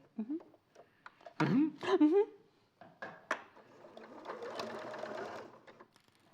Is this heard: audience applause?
no